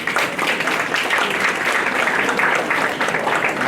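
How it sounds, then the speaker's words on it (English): Audience applause at a first foundation day celebration at AIIMS Bibinagar, with male faculty among those clapping: a steady, dense wash of many hands throughout, loud and continuous with no talk over it. "the male faculty is also clapping for the ladies"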